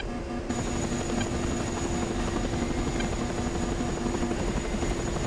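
Helicopter in an A-10 Warthog combat video game, a continuous rotor chop with an engine drone, steady and moderately close throughout, with no talking.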